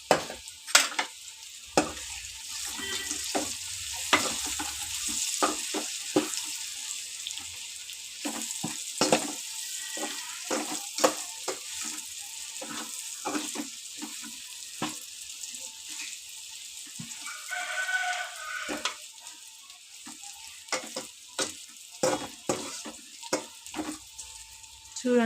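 Masala and salt being stirred into food frying in a pan, with steady sizzling and frequent sharp scrapes and clinks of the spoon against the vessel, close by, with no talk.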